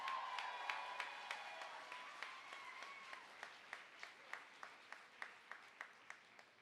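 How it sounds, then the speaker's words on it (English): Crowd applause at a gala dinner, a dense wash of clapping with faint cheers that thins into slow, rhythmic synchronized claps toward the end, moderately distant. "give yourself a nice round of applause"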